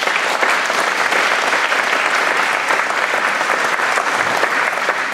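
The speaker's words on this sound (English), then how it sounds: "I'd like to give them an applause for this." Audience at a wall-hanger and toolkit launch event clapping together, a dense, steady round of applause that stays even and fairly loud for several seconds, with no speech.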